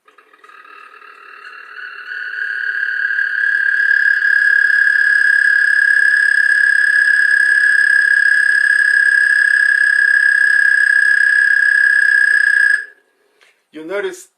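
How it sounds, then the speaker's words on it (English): An American toad sings one long, high, steady trill that swells in over a few seconds, holds loud and even for about ten seconds, then stops abruptly; a brief voice follows. "So here is the song of an American toad."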